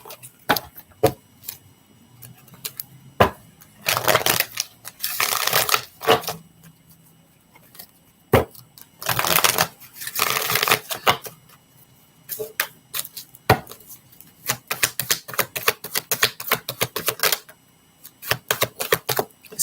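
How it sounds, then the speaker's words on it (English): Mermaid oracle cards being shuffled close up, irregular bursts of crisp riffling and flicking interspersed with light taps and clicks, with brief quiet gaps between handfuls. "Let me get some of these mermaid cards here for you."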